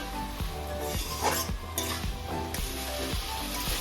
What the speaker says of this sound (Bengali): আমি এখন উপর থেকে ছড়িয়ে দিচ্ছি ধনে পাতা ধনে পাতাটাকে ভালো করে মিশিয়ে দেবো